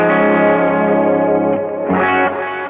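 An electric guitar rings through a Mako series R1 pedal set to a big plate reverb, giving sustained, distorted, chorus-tinged chords that swell and shift, loud and close with no voices.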